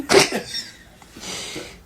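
A sharp cough bursts out near the start and another at the very end, with a noisy exhalation in between, close and fairly loud with no talking.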